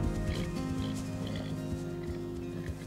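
Hooves of Attila, a Przewalski's stud horse, thud softly and irregularly at a moderate distance, with occasional faint animal snorts over a low steady hum; no one speaks.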